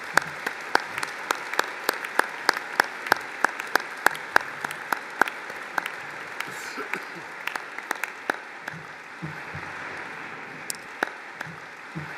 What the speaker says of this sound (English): may we all please start by applauding our graduands.